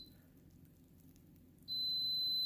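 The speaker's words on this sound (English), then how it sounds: "that's the jam maker letting me know that the jam is ready and it's boiling" Ball jam and jelly maker cooking carrot cake jam, giving off a steady high electronic beep that starts partway through and holds loud and continuous over a quiet kitchen background.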